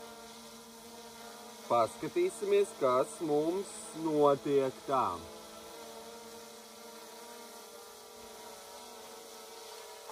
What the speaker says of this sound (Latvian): Tagad pacelšu dronu